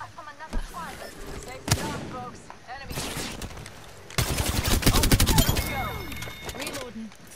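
Rapid bursts of video game gunfire crackle in several dense volleys, loud and close, with heavy booming impacts and a long sustained stretch of automatic fire.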